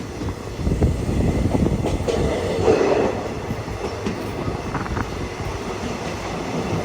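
The Mangaluru Express rolls into Payyanur railway station with a steady rumble of wheels and rattling carriages, fairly close and continuous, with faint squeals along the rails.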